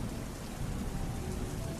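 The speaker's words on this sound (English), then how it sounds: "I recall hearing the storm again around this time." A storm pours steady rain that hisses over everything, with low thunder rumbling continuously underneath, dense and unbroken throughout.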